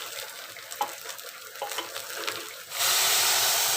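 Soaked rice stirred with ghee in a pan, soft close scraping and light sizzling for a few seconds, then a sudden loud, steady hiss fills the rest.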